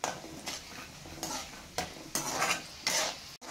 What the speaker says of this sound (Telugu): కొంచెం మినపప్పు, కొంచెం కాజు ఫ్రై చేసుకోవాలండి